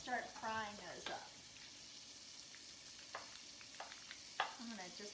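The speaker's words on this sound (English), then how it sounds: "And 2 cloves of garlic. And start frying those up." Two cloves of garlic fry in melted fat in a pan while Chicken Tikka Masala is cooked, a steady soft sizzle running throughout, broken by a few short clinks and stirring scrapes, with a brief voice at the start.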